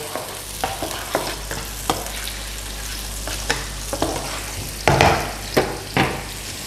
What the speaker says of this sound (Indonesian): Gue masukin si bawang-bawangannya ya. Kita tumis.